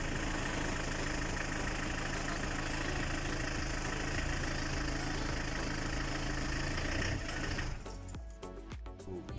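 A Peugeot engine runs steadily with a loud, even mechanical drone, then near the end cuts out into stuttering, uneven bursts as it falters.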